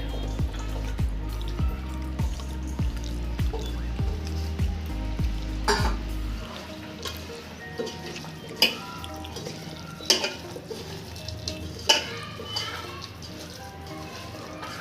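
Marinated mutton and chopped onions are mixed by hand in a pot, heard as soft wet squelches and occasional clinks after a stretch of low sizzling hum, with no talk.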